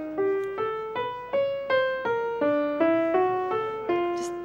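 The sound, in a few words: Schoenberg twelve-tone row played as music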